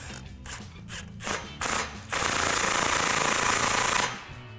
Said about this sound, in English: we can go ahead and snug this clamp up here using our 15mm socket